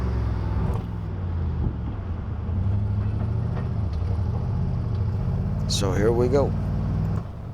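An old classic logging truck's engine rumbles steadily as it drives, a low continuous drone with someone speaking briefly over it.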